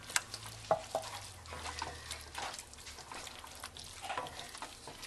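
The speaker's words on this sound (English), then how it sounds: "I'm going to add my tomatoes" Canned tomatoes land in a pan of frying ground meat and onions, making a soft, steady sizzle with wet bubbling and scraping stirs, close by and fairly quiet, with no talking.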